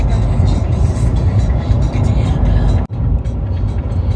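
Steady road rumble from inside a car on a highway crossing from Florida into Georgia, a continuous close drone with a brief dip just before the third second.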